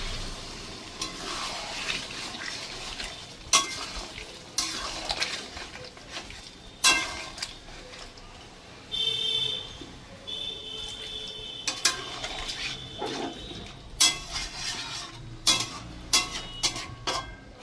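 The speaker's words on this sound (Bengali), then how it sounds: "মশলাটা ভালো করে কষা হবে, তার জন্য আমি দিলাম একটু গরম জল।" Chicken kadai masala sizzling and frying in a pan as it is stirred after hot water is added, with repeated scraping stir strokes and bubbling, close and moderately loud, no talking.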